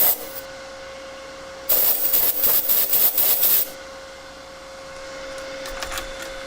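Abrasive sanding on a resin fountain pen barrel with a beach theme, heard as a loud, scratchy rasping burst of rhythmic strokes lasting about two seconds over a steady background hum, no voices.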